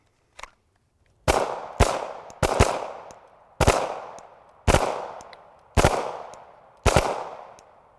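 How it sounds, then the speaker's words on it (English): Handgun shots fired at a target during a circle shooting drill, a single early crack followed by six loud sharp reports at roughly one-second intervals, each with a short echoing decay, and no voices. "1 second per round. At this distance, we should be putting a hole in the center of that target."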